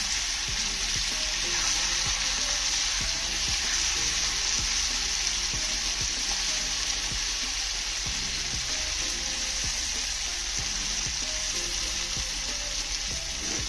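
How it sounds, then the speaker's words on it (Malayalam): Chicken pieces fry in a pan with a constant, loud sizzle and spatter, while a utensil stirs them with soft, irregular scraping knocks throughout. "ചിക്കൻ ഇട്ട ശേഷം നമ്മളിങ്ങനെ പതുക്കെ ഇളക്കി കൊടുത്തുകൊണ്ടിരിക്കണം"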